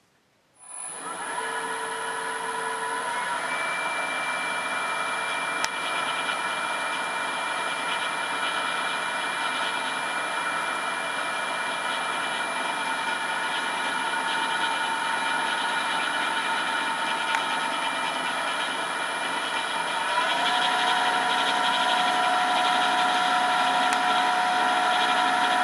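Slotting head on an NGF-110 milling machine, its motor run from a frequency drive, hums and whines steadily and close for the whole stretch, the tone rising slightly near the end.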